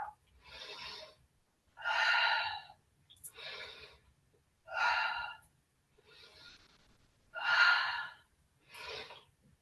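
Slow, deep breaths during a gentle yoga session, with seven drawn-out airy inhales and exhales in a steady rhythm and quiet pauses between them.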